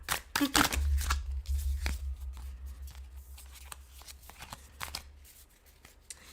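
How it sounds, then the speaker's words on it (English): Tarot cards are shuffled by hand in a close, papery flurry at the start, then give softer riffles and taps while a person talks. "I really did shuffle these cards."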